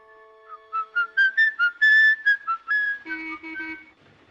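A killer's whistled tune from Fritz Lang's film M plays as a clear, solo melodic line of short rising and falling notes, close and distinct against near silence.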